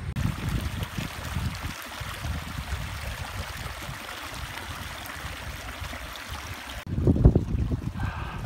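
A small waterfall at Sespe Hot Springs, a steady rushing splash of falling water with a louder, closer surge near the end.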